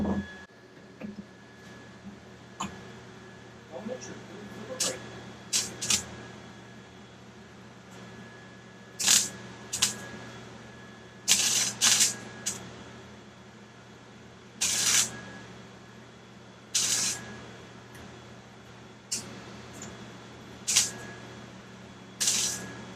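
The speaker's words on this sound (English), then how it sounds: "let the welding begin." Welding on rusted car floor pans of a flooded Foxbody Mustang, heard as intermittent bursts of crackling, hissing spatter separated by pauses, close and fairly loud over a steady low background hum.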